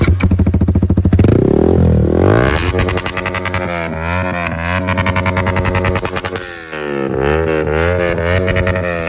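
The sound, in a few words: Yamaha R15 V4 motorcycle full system exhaust revving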